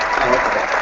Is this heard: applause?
yes